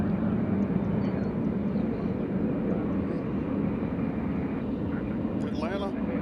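Southwest Airlines airliner at Nashville International Airport, a steady broad jet engine roar held at constant loudness from a moderate distance, with faint voices in the background.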